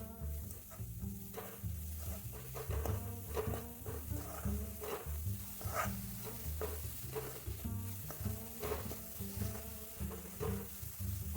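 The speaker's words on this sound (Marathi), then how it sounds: "तर आता आपण यात टाकणार आहोत ते भिजत घातलेले होते झिंगे ते." Soaked prawns stirred into spiced masala in a pan for a village-style jackfruit seed dish, making a constant sizzle with a steady rhythm of scraping and stirring strokes throughout.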